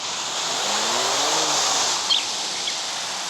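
Car driving in the video game OTR 2, a steady engine drone with a rising and falling pitch as it accelerates, loud and continuous with a brief click near the end.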